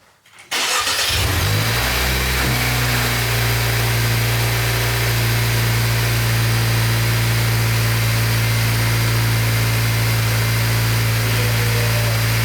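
An 11th-generation Honda Civic with a newly installed front-mount intercooler starts up and settles into a loud, steady idle that holds close and unbroken.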